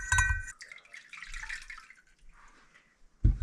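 Small amount of water poured and trickled while diluting rennet for sheep milk Colby cheese, with brief splashes and drips, a quiet gap, then a louder splash at the end.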